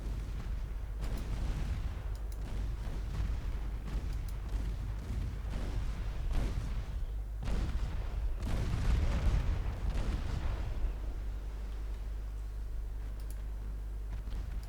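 Secondary guns on a warship fire in Ultimate Admiral Dreadnoughts, a naval game. Muffled, low booms and thuds roll in repeatedly over a constant rumbling background, and no voices are heard.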